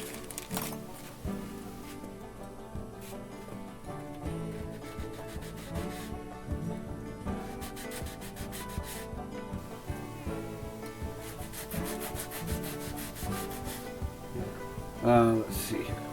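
Guitar frets on a Firefly 338 being lightly sanded and smoothed during a setup, a steady soft rubbing scrape in back-and-forth strokes, close and continuous, with a brief louder knock near the end.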